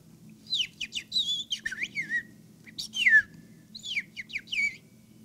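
A person whistles in imitation of a bird, giving quick rising and falling chirps and warbles in three bursts over a low steady hum, close and clear, with no speech.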